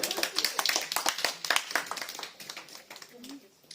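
A church congregation claps in quick, bright, irregular bursts that thin out and fade toward the end, with a voice speaking over the clapping.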